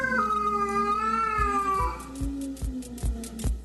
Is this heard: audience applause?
no